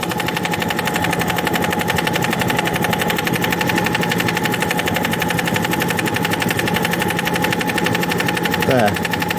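Kodak Brownie 8 film projector running with its mechanism recently freed from seized wheels, giving a steady rapid mechanical chatter, continuous and evenly pulsed, close by with no pauses.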